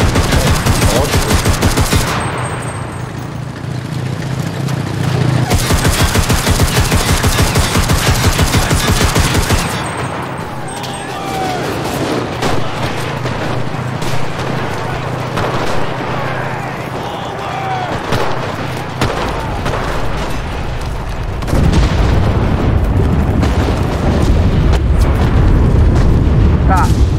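Rapid gunfire and booming grenade launcher explosions in the video game Enlisted, bursts of automatic fire alternating with deep blasts, loud and dense throughout with brief lulls between volleys.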